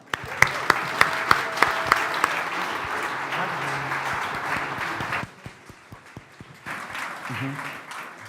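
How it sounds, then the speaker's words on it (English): Audience applause at a team presentation event, starting with a few sharp individual claps that swell into a sustained round of clapping, fading and picking up again near the end, with a voice speaking over it. "Big applause"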